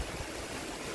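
Water from an underground spring flows steadily outdoors, a close, continuous rushing wash with no pauses.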